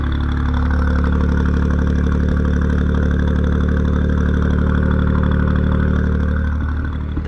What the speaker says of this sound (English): Has an exhaust on there. Sounds good.